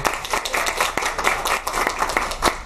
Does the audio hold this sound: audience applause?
yes